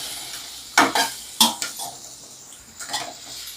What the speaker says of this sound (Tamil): இந்த டைமில் நம்ம மாங்காய் சேர்த்து வதக்கிடலாம்.